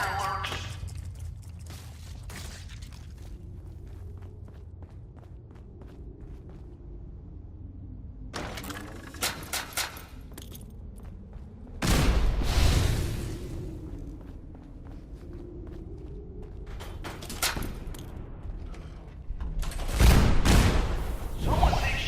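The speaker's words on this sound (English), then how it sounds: "The fireworks." Fireworks burst in Fallout 4's Nuka-World park as several loud crackling bangs and whooshing fizzes in separate bursts, the strongest near the middle and end, with quieter game ambience between them.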